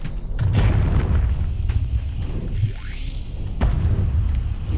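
A teleported mine detonates among a wing of enemy fighters in the space combat game Starsector, a deep booming blast over a rumbling low drone, with a sweeping whoosh and further dull thuds following.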